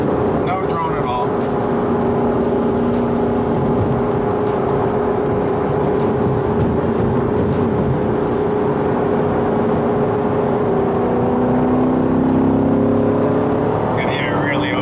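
From inside a Chevrolet Corvette C7 with an AWE touring exhaust, the engine holds a steady highway drone in third gear around 3,500 RPM, then its pitch rises as the car accelerates, with constant road noise beneath.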